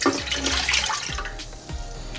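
Water pours steadily into a bowl for homemade pizza dough, a close, continuous splashing stream with no talking over it.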